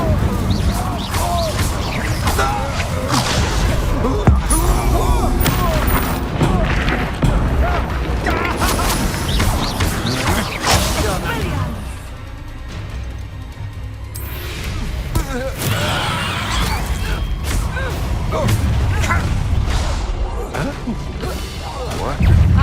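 Confringo fire-blast spells in Hogwarts Legacy go off in a busy duel, heavy booms and crashes erupting one after another amid whacks and clatter, loud and dense, with spoken voices mixed in.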